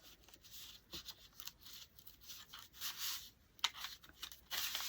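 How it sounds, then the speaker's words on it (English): A printed paper image being torn slowly by hand, a series of quiet ripping and crinkling bursts in uneven spurts with short pauses between them, close up and alone. "So I'm going to start trying to rip this."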